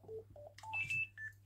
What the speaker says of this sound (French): mon téléphone qui sonne, c'est pas grave, je vais rappeler tout à l'heure